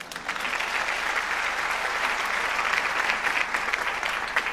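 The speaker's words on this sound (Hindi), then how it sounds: "आपकी भरपूर तालियों में इन्हें स्टेज पे दावत देती हूँ।" Audience applause welcoming a guest onto the stage at a Pakistan Air Force show, dense continuous clapping from a large crowd, steady and loud throughout.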